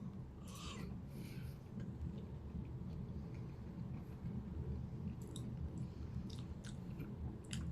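Close, quiet chewing of potato from a dish with celery and gravy, soft wet mastication with a few small crunchy bites, alone without talk.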